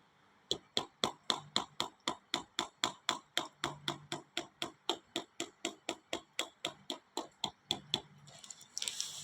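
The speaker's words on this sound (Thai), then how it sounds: "แล้วมาก็ตอกตรงหน้าแข้งอีกข้าง" Rapid, steady series of sharp wooden knocks from a wooden hammer tapping along the shin during a Thai tok sen massage in Chanthaburi, roughly three strikes per second, close and crisp with no talk.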